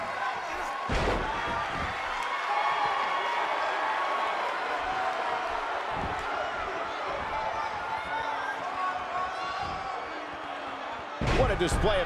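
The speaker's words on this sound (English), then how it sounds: "a thud echoes through this arena as the German suplex finds its mark" A German suplex thud in the WWE 2K18 wrestling video game, with several heavy slams landing over a continuous arena crowd roar.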